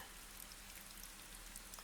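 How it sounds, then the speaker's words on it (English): Soft rain patters steadily outside at night, a quiet, even hiss of drops on surfaces with no voices, unchanging throughout. "only rest and listen as the rain continues softly outside"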